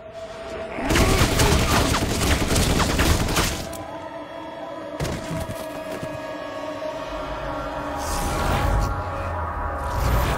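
Heavy gunfire from a Superman and Lois TV scene: dense rapid bursts and loud booms, sustained and intense, then sporadic shots and impacts over a rumbling background.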